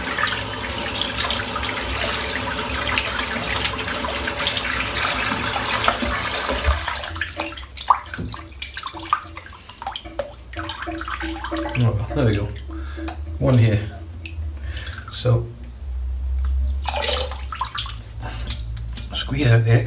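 Water splashing and sloshing in a basin, first a steady broadband wash, then choppier intermittent splashes and drips close by.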